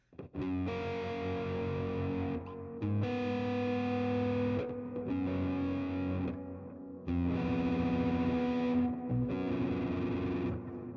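Low-tuned electric guitar with heavy distortion, playing loud sustained chords in steady phrases separated by brief breaks, with effects adding a chorus-like shimmer and no talking.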